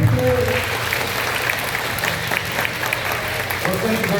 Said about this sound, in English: Let's clap once again. John McKinley.